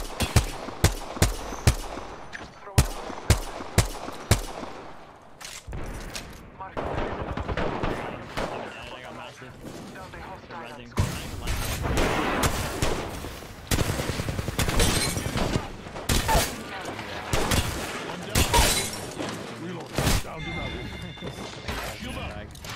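Rapid gunfire in the Apex Legends video game, sharp repeated shots early on, then heavier sustained bursts, close and loud throughout.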